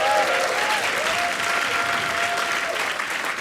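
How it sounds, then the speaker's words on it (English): A standup comedy audience breaks into a steady, full round of applause, dense clapping from a large crowd that stays even throughout, with a faint tonal hum underneath. "Give him a round of applause."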